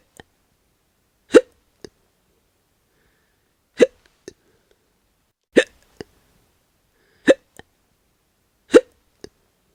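A person hiccups five times, each a sharp close hic followed a moment later by a small, faint secondary catch, spaced roughly every two seconds with silence between.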